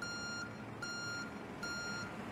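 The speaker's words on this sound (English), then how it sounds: "Fuel truck is in position." A fuel truck reversing at an airport in a flight simulator game sounds three steady, evenly spaced electronic back-up beeps over a constant low engine and ambient hum.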